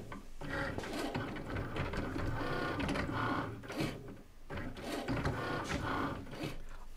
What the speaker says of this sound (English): now you can go ahead and press the flashing Cricut button